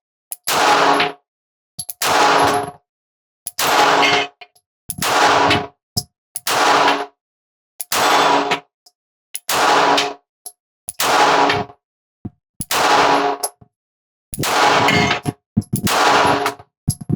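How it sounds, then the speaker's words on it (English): Springfield Hellcat RDP pistol shots fired at a steel clacker target, about ten evenly spaced loud cracks roughly every one and a half seconds, each followed by a metallic ring from the steel, with no talking. "Let's see if we can put some hits on that top clacker with the Hellcat."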